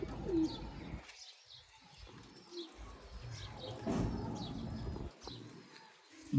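Sialkoti pigeons cooing at a breeding loft, soft repeated low coos with occasional faint chirps and a brief flutter, moderately quiet and close, no talking.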